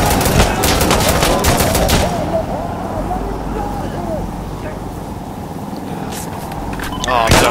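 Rapid bursts of video game gunfire crackle loudly at the start and again at the end, with a quieter stretch of battle noise and scattered shots in between, while voices talk over the action.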